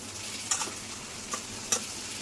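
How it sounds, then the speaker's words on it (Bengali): Chopped onion base fries quietly in a pan while fish is being cooked, giving a soft steady sizzle with a few sharp clicks of stirring. "এটাকে একটু ভেজে নেব"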